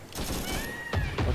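Artillery fire in the Arma 3 Vietnam-era game: rushing whooshes followed by a couple of heavy thumping impacts near the end, with faint voices in the background.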